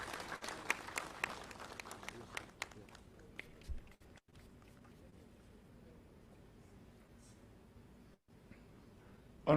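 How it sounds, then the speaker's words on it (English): Scattered audience clapping at the public presentation of Nigeria's 2022 Appropriation Bill, a burst of claps early that thins out into quiet room tone. "Let's encourage you with our applause"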